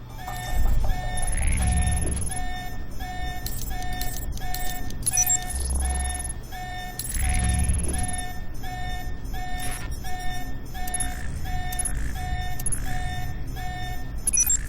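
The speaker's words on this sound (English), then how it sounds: "You need to shut off the alarm." An electronic alarm sounds repeatedly in the video game Alpha Protocol, rhythmic high beeping tones pulsing loudly over a low rumbling engine-like drone, with occasional deeper thumps, and no speech.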